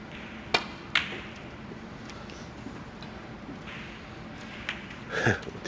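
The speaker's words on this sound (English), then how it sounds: "now he starts frame 2 with a bad break-off" A snooker break-off shot at a World Championship qualifier: two sharp, close clicks from the cue striking the ball and the balls colliding, followed by fainter scattered ball knocks over a quiet arena hum.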